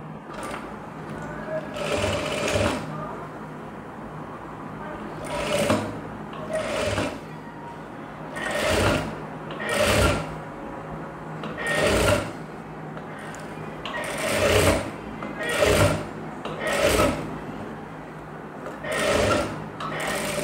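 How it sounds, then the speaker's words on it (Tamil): Close sewing machine stitching a cross piece onto a blouse neckline, running in short repeated bursts separated by brief pauses, with the motor hum steady underneath throughout. "இப்போ வந்து நம்ம அப்படியே நெக்கில் வச்சு ஸ்டிச் பண்ணிடலாம்"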